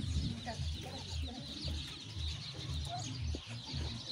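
Backyard hens clucking in their coop area, close and moderately loud in an uneven stream of short calls, with someone speaking in between and shooing them.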